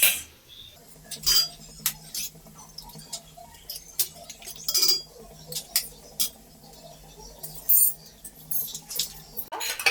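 Beaten eggs being mixed in a bowl for an omelette, with quiet repeated clinks and taps of a utensil against the bowl in a soft irregular rhythm, no talking.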